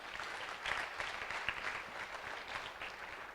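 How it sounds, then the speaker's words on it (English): An audience claps during the opening remarks of the inaugural Open Digital Health Summit, a brief burst of steady, fairly faint and distant applause without speech. "A round of applause."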